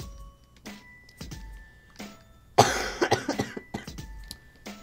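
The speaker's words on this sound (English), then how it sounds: "My cough is getting better, but it's still there." Several harsh coughs come in a cluster, with a few quieter coughs and throat sounds before and after, close to the microphone.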